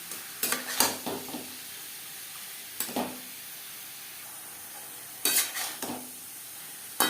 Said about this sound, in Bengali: পেঁয়াজের সাথে থোর বেশ ভালো করে মিক্সড করে দেব